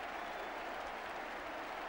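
A football crowd at a 1981-82 West Bromwich Albion versus Swansea match applauding a player's efforts, a dense, steady wash of clapping from a large stadium crowd.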